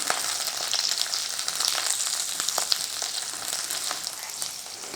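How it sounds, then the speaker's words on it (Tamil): Chopped large onion frying in a pan, a dense, even sizzle filling the whole stretch with faint occasional stirring ticks, close and steady. "நம்ம கட் பண்ணி வச்சுருந்த பெரிய வெங்காயத்தை இதில் சேர்த்துக்கலாம். இது கொஞ்சம் நல்லா வதங்கட்டும்"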